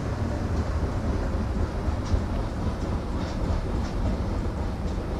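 A Vande Bharat Express runs along in Train Simulator Classic, with a continuous low rumble of wheels and carriage and faint rhythmic clicks over the rails, steady and moderately loud throughout.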